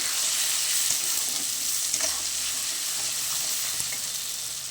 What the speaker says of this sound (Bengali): মশলাটা আমি ভালো করে কষে নেব।